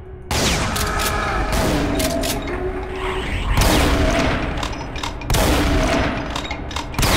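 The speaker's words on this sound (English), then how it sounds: "Shooting that switch makes that gun appear" Gunfire in the first-person shooter Brutal Doom 64, repeated loud shots and booming blasts in quick bursts with mechanical clanks between them, no voices.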